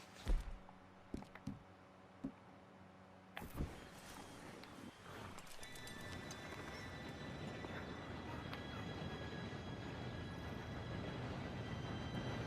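A train approaching in the Red Dead Redemption 2 video game, a rising rumble and rail clatter building steadily after a few footstep-like knocks and a sharp clank.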